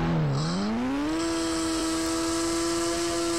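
A car engine in GTA V drones loudly, dips briefly, then revs up to a sustained high, steady whine that holds without pause.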